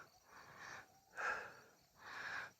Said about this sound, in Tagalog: Grabe hingal.